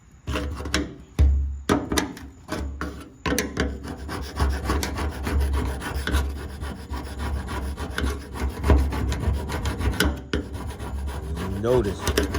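Rough scraping and rasping as dirt is cleaned from between the tangs of a gas tank, a continuous gritty rubbing with irregular strokes, close and loud.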